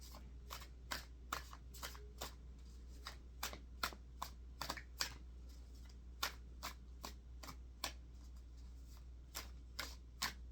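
Tarot cards being shuffled by hand, a steady run of crisp riffling bursts repeating roughly every half second, close and fairly quiet over a low constant hum, with no talking.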